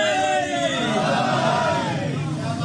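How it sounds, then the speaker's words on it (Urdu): A crowd at a Muharram religious gathering shouts back in unison in response to a slogan, a loud, sustained chorus of massed voices filling the hall. "نعرے کا جواب سب نے دینا"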